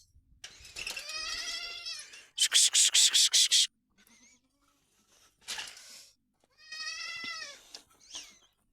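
Goats on a goat farm bleat loudly and close by at feeding time, several wavering calls with short pauses between, one bursting into a rapid, pulsing cry.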